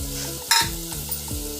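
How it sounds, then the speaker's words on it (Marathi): Potato pieces and drumstick pods sauté with onion and tomato for khichdi. Oil sizzles steadily in the pan, and one sharp scrape of a spoon stirs through it close by. "आणि पुन्हा थोडं परतवून घ्यायचं चांगलं असं मिक्स करून घ्यायचं"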